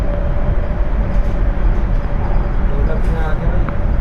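A Delhi Metro Airport Express Line train runs at high speed with a loud, steady rumble and rushing noise, heard from on board while people talk over it.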